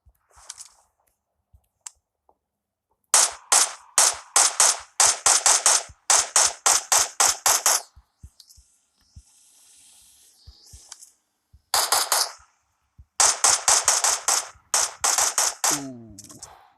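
Rapid bursts of video game gunfire crack in quick rhythmic volleys, several separate strings of shots with short gaps between them, loud and close.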